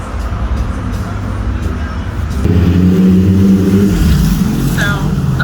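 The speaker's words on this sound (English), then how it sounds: "All these cars are going by." Cars drive by on a busy street in Vancouver, Washington, a continuous loud traffic roar with engine drone that swells heavier partway through.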